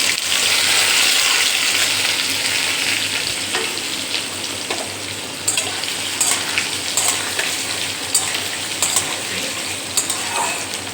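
Vegetables hitting hot mustard oil tempered with cumin and a bay leaf, giving a loud, continuous sizzle with stirring scrapes and occasional bursts of crackle throughout.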